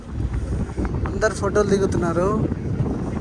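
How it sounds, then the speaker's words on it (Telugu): Strong wind buffets the microphone at the top of the Eiffel Tower in Paris, a constant low rumble under someone talking close and crowd chatter nearby. "సో గాలి విపరీతంగా వస్తుంది."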